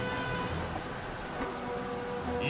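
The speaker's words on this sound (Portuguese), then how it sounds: "Putz, tá chovendo, galera." Steady rain falls across a feudal Japanese battlefield in Nobunaga's Ambition: Awakening, a continuous broadband hiss of moderate loudness with no clear individual drops, holding evenly throughout.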